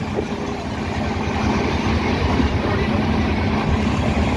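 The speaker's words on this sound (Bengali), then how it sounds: "স্পিড নিয়ে নিয়েছে দুরন্ত এক্সপ্রেস" The Duronto Express runs at speed past open fields and palm trees, a continuous loud low rumble of rolling wheels and carriages with a dense, steady wash of noise from close by.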